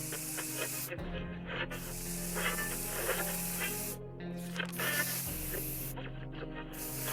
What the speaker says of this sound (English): we are going to use the bug spray, and that'll take care of that problem